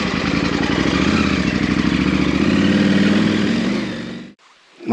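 Adventure motorcycle engines rumble loudly and steadily close by as the bikes set off, then the sound cuts out abruptly near the end and is followed by a faint low hum.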